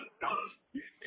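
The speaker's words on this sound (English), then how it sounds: "This kid, he's coughing" A kid in a video game coughs, two short rough bursts about half a second apart, close and loud with a brief clipped sound at the very end.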